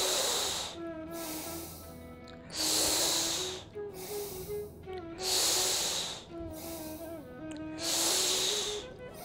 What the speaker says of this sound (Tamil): மூக்குழியாக மூச்சு வெளியிடுங்க.